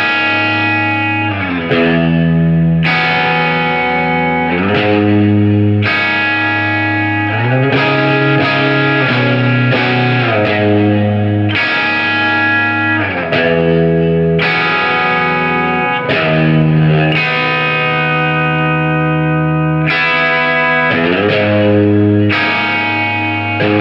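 An electric guitar played through a Silktone Overdrive+ distortion pedal rings out loud and close with thick, overdriven sustained chords and note changes, with no talking.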